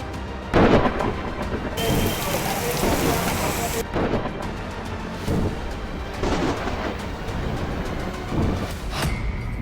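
Heavy monsoon rain pouring steadily in Rajasthan, a dense hiss of downpour with several cracks and rolls of thunder breaking through at intervals.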